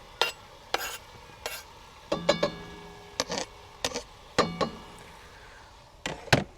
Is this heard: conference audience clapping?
no